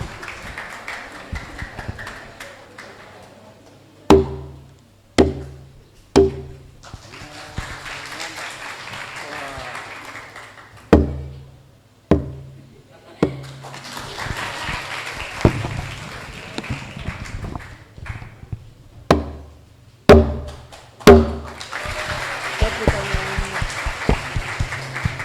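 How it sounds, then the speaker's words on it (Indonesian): An audience claps at the opening ceremony of Pekan Cahaya, a church event of the Diocese of Timika, with several bursts of applause interleaved with sharp knocks, a voice speaking over a public address in between. "kita berikan aplaus sekali lagi yang meriah atas sambutan pembukaan acara kita di Pekan Cahaya"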